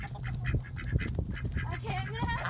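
Ducks quacking at a spring poultry plunge, a busy run of close, repeated honking calls with people talking over and between them.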